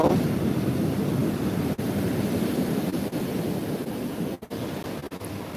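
Ocean surf rolling in with the incoming tide at Twin Lakes Beach in Santa Cruz on an evening, a steady, continuous wash of broadband noise with slight wind, no distinct breaks and no voices.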